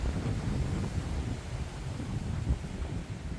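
Strong wind buffets the microphone in Wellington, a steady low roaring rumble with gusts rising and falling throughout, close and fairly loud with no voices.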